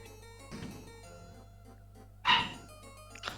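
A dog barks once sharply and close by, then gives a faint yip, over steady game music and a quiet electronic hum.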